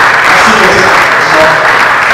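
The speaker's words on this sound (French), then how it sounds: "Encore vos applaudissements, mesdames et messieurs" Loud, dense applause from a crowd at a formal ceremony launching a print magazine on infrastructure and development, continuous clapping close up throughout.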